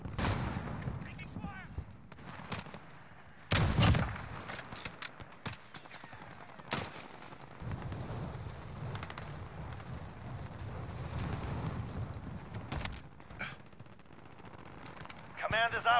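Gunfire in the Call of Duty Warzone video game at Verdansk during a team deathmatch: rapid bursts and single shots, some loud and close and some distant, over continuous battle noise, with a few brief sharp impacts.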